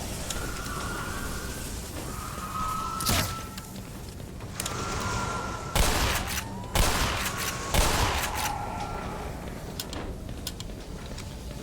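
Shotgun blasts from the Black Mesa video game ring out in a scattered sequence, several loud booming shots with mechanical clatter between them and a recurring whining tone in the background.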